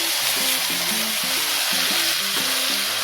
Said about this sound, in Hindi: ये देखिए ये हम सरसों लहसुन पीस लिए थे, प्याज, अब इसको हम इसमें डाल दे रहे हैं।